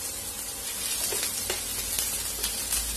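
Finely chopped garlic and green chili fry in hot oil for egg rice, a loud steady close sizzle with a few brief stirring scrapes and spatters, no voices.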